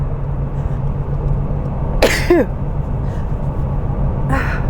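A single sharp sneeze cuts through a steady low hum, with a fainter second burst a couple of seconds later.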